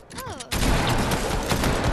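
Rapid automatic gunfire sprays toward the player in an Apex Legends arena trios match, a loud, dense burst kicking in after a brief moment of quieter game sounds and continuing steadily to the end.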